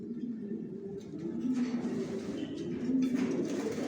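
Pigeons coo steadily in a loft housing breeder and running pairs, the soft low burbling calls overlapping close by with no one talking.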